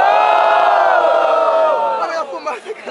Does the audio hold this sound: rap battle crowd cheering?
yes